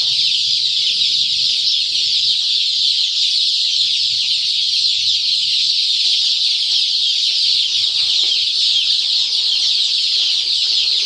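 A dense, unbroken chorus of many Andijan black chicks cheeping at once, high-pitched and steady throughout, with no pauses.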